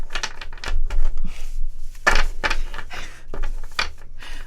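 Loud bursts of cards being shuffled, rapid riffling flutters repeated several times in quick succession, close up.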